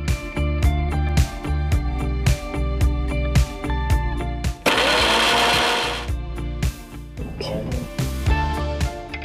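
A kitchen mixer grinder grinding cashews and amaranth seeds, with loud whirring bursts that stop and start in short pulses, then one longer harsh grinding run in the middle.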